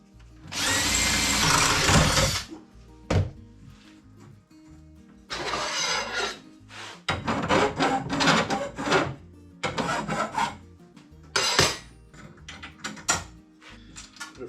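A power drill with a 1/4 inch bit bores a hole in a shop, running in several loud bursts: a long first run, then shorter starts and stops with pauses between.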